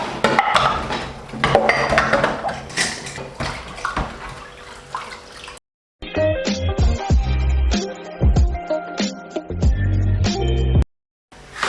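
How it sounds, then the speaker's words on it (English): Dishes and cutlery clatter in a kitchen sink under a steady rush of running tap water, with close, busy knocks and scrapes, a brief pause, then more washing. "I run my water, and I wash my dishes"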